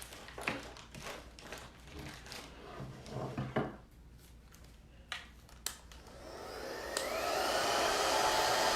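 A heat tool switches on partway through and blows a steady, rising whoosh while drying a chalk craft project. Light handling clicks and taps come before it, and the drying noise then runs alone to the end.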